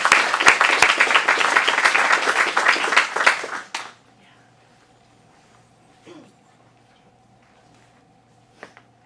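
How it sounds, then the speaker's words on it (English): Audience applause for a scene at an adult acting studio script showcase in Phoenix, loud dense clapping for nearly four seconds, then cutting off to a quiet room with faint low hum and a few small noises. "Round of applause for Postcards from the Edge"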